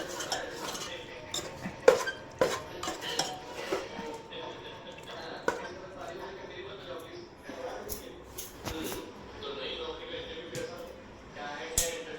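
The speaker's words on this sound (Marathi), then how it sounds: "आता आपण याला एकजूट करून घेऊयात एकजीव करून" Utensils clinking and scraping against a pan as food is mixed on the stove, with irregular sharp metallic taps over a steady low background and a voice talking intermittently.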